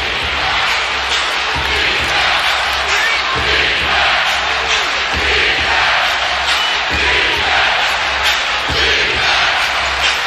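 Home crowd at a Cleveland Cavaliers basketball game against the Philadelphia 76ers, on their feet roaring and cheering through a tight final minute, a dense, loud, continuous wall of arena noise with scattered shouts.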